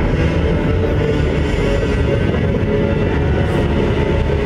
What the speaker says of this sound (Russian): Последний российский император Николай II прибыл на станцию «Дно» на поезде